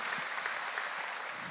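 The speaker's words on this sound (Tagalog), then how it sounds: "malakas na palakpak sa Panginoon" Church congregation clapping during a Sunday worship service, a continuous, bright patter of many hands, moderately distant and even in level for its short length.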